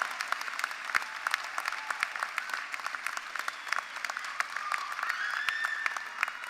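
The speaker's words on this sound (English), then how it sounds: "please stand so that we can applaud you" An audience at an adult and community education graduation ceremony claps for the graduates' families, a steady, moderately loud wash of many hands with sharp individual claps scattered throughout, continuing without a break.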